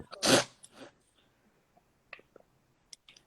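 A short, sharp sniffle or snort right at the start of an online call, close and fairly loud, followed by a few faint clicks and small handling noises in an otherwise quiet room.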